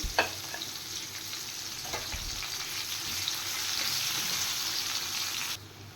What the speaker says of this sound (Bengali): এবার পেঁয়াজটা একটু হালকা ফ্রাই করে নেব